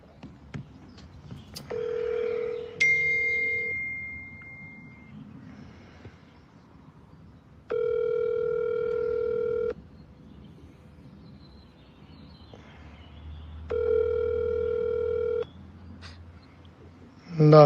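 Telephone tones from a recorded phone call: a short dial tone, then two long, steady ringback tones several seconds apart, with low background noise between them and a faint voice starting at the very end.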